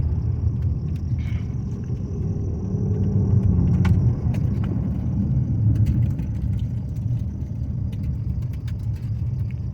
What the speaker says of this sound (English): So we're just driving down the road.